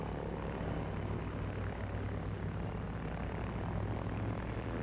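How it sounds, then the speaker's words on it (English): A World War 2 military glider and its tow airplane take off from an airfield, a continuous droning propeller-engine roar, steady and moderately distant throughout. "The first glider is off on schedule. Less than 30 seconds later, a second ship takes off."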